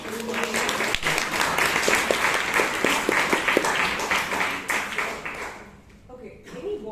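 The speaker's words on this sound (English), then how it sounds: "So a round of applause." An audience at a Bangalore Toastmasters meeting applauds the snack sponsor with a dense burst of clapping that holds steady, then fades out near the end.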